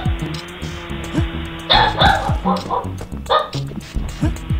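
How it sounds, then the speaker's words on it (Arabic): A dog gives a run of short, repeated yips and barks with some whimpering. The sounds come close and fairly loud in an uneven rhythm, mixed with voices and other noises. "في عنا كلب، في عنا كلب ضيف"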